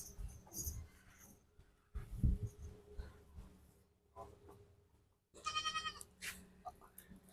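Beetal goats bleat on a goat farm in several bursts spread across the clip, with a louder run of high cries near the end. Farm background and some human voices come through between the calls.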